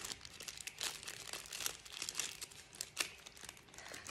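A plastic bag being folded and creased by hand for mosaic adhesive, giving close, quiet crinkling and crackling in irregular bursts over a few seconds.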